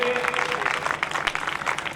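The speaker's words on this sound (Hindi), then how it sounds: "तालियां बजा के देखिए, इनका स्वागत कीजिए।" An event audience claps to welcome sponsors on stage, a moderately distant crowd applause with uneven bursts of clapping, and a brief voice at the very start.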